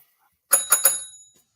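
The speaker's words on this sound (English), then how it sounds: "Hit the judgment bell." A small bell is struck three times in quick succession, bright, ringing and close, with the tones decaying over about a second in otherwise quiet surroundings.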